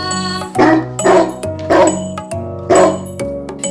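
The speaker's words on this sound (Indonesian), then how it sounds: "Suara anjing." A dog barks in three loud, evenly spaced bursts over a bright backing tune in a children's animal-names learning song.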